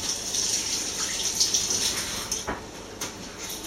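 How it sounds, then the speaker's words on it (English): Hands are rinsed under a running tap, with a steady close stream of water splashing throughout and small shifts in the flow as the hands move. "I'm just going to rinse my hands."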